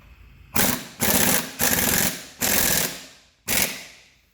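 An impact wrench tightening lug nuts on a 2019 Can-Am wheel: five loud, close, hammering rattling bursts, each about half a second, separated by short pauses.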